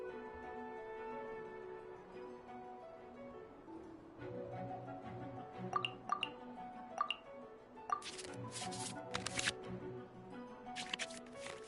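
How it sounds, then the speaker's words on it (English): Digital card-shuffle effects as cards go back into the draw pile in a video card game, a few quick soft flicks and clicks over steady background music. "we can select any number of cards in our hand to shuffle back into the draw pile, and then draw the same number of new cards"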